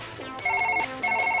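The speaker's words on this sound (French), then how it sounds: "Non, le téléphone, on répondra plus tard, Janine." An in-game telephone in Surgeon Simulator rings in two bursts of bright electronic trilling separated by a short gap, loud and close, with no talk.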